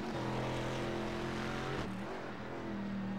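Corvette and Ford race cars roar past at Sonoma Raceway during a multi-class race, engines droning steadily with a strong harmonic whine that shifts pitch briefly partway through, loud and continuous, with no voices.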